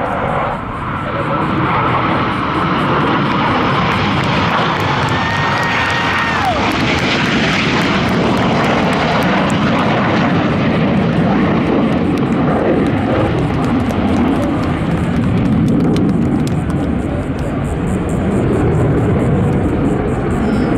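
Blue Angels jets fly in formation overhead at a Pensacola Naval Air Station air show, a loud, sustained roar that swells and sweeps past while an announcer talks over it.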